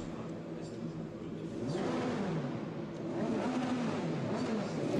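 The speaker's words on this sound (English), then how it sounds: "The engine's starting to roar" Formula Renault Eurocup race cars at Spa-Francorchamps roar as they pull away for the formation lap behind the safety car, a steady, loud engine drone that swells and holds, with a commentator's voice faintly mixed in.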